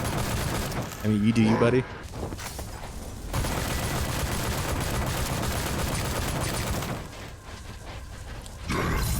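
Rapid bursts of gunfire in the Sker Ritual round-based zombies game, dense and loud, sustained fusillades with short gaps, while someone talks over it.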